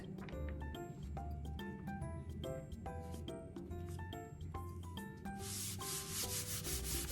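Paper is rubbed by hand onto an inked botanical leaf print without a press. Quick, repeated rubbing strokes run close and continuous over soft tonal music in the background.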